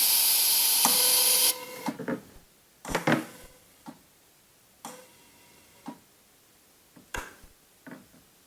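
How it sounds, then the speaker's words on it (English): Gas let out of a home brewing keg, a loud steady hiss for the first second and a half, then scattered short ticks, clicks and bursts of release, close and with no talk. "I'm going to let some of the gas out."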